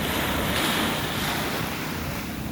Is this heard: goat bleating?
no